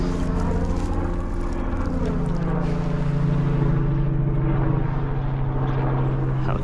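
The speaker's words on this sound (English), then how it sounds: "Helicopter going over." A low, steady rotor drone of a helicopter passes overhead, swelling slightly and then easing off as it moves away.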